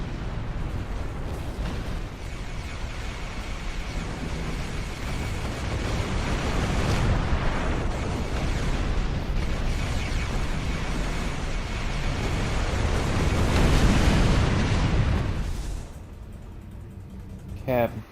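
A ship comes under attack in the game Star Trek Online, with rumbling explosions and heavy bursts that swell into a loud, sustained roar before fading, mixed with game audio.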